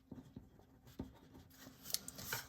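A pen scratches quickly across a tarot card set, a few short, faint strokes close by in a quiet room, no voices.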